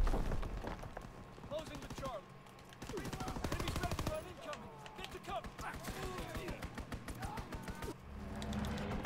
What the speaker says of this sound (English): I love strafing runs.